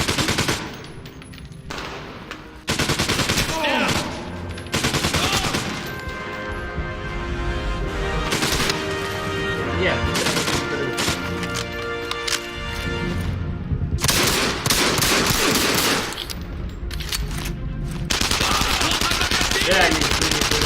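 Bursts of machine gun fire in the World War II shooter game Enemy Front, loud rapid rattling volleys with short pauses and crashing impacts between them, while people talk over the gunfire.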